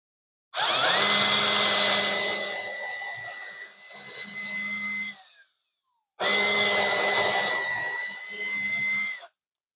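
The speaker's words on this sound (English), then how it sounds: "We'll drill 2 holes." A power drill with a 3/16 drill bit bores two holes in a woodworking shop, heard as two sustained, close whirring bursts that trail off, separated by a brief pause.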